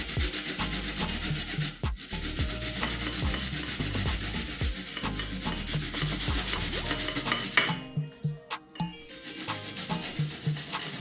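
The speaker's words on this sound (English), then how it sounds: "I'm grating my onion, half onion, I'm not going to grate everything." Half an onion rubbed against a grater makes a continuous close, rough rasping scrape in quick repeated strokes, pausing briefly near the end before resuming.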